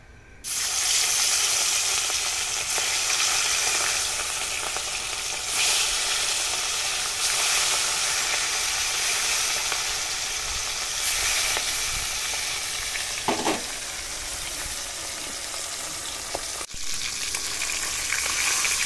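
Pieces of rohu fish fry in hot white oil in a wok, a loud continuous sizzle and hiss up close, with occasional sharp clatters and bursts of spattering as the pieces shift.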